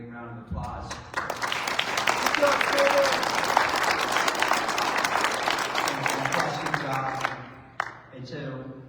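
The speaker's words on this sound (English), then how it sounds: "I want to give our commander a great round of applause." A convention opening session audience breaks into applause for its commander: dense clapping that swells quickly, holds strong for several seconds with some cheering mixed in, then tapers off with a few last claps.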